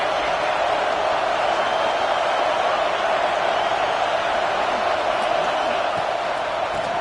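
Home crowd at a Miami vs Oregon college football game, a loud relentless roar filling the stadium with steady broadband noise and scattered whoops, unbroken for the whole stretch.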